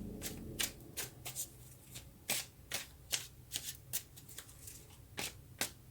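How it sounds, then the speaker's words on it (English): Tarot cards being shuffled by hand, a run of crisp riffling bursts and soft slaps repeating at an uneven pace, close and fairly quiet with no talking. "let's get some more cards"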